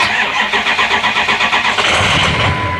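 A Ford 6.0 diesel engine cranks with a rapid, rhythmic starter chug for about two seconds, then catches and settles into a loud, close running rumble.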